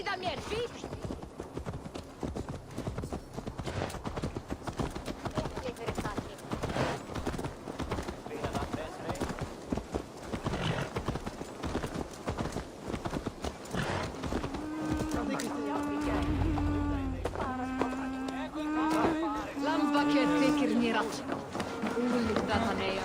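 Hooves clip-clop steadily over a busy game soundscape in Assassin's Creed: Valhalla, with voices talking and a low droning tone joining in later.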